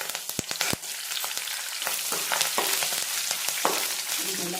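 Ridge gourd vangibath base frying in a pan, a steady sizzle with scraping stir strokes and a few sharp knocks of a spoon against the pan near the start, close and fairly quiet.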